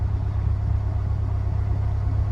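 Mazdaspeed 3 engine running steadily with the gas pressed, a loud continuous low rumble with no distinct rise in pitch, heard from inside or close to the car.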